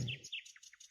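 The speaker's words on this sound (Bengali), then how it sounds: "পাখির কিচিরমিচির শব্দ শোনা যাচ্ছে।" Birds chirp at dawn in a quick run of bright, high tweets, close and clear in a very brief burst.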